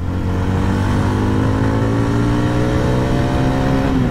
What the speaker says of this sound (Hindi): अब आपको फर्स्ट गियर में दिखाते हैं मैक्सिमम एक्सेलरेशन